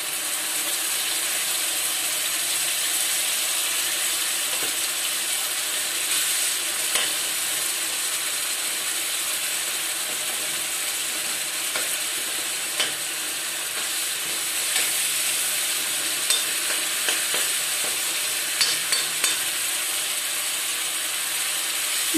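Spices frying in a pan for a ridge gourd and taro curry, a steady close sizzle with occasional scraping clicks of stirring throughout, no talking.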